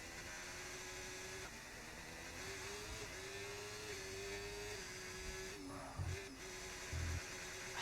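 A racing car engine in a racing game whines at high revs under hard throttle. The tone is sustained and slowly climbing, broken by brief shifts and a few dull knocks near the end.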